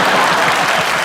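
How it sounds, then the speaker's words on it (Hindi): Loud, dense audience applause fills a large venue at the IIFA 2023 awards show for Madhuri Dixit, a steady sustained roar of clapping. "एक बार माधुरी मैम के लिए जोरदार तालियां हो जाएं।"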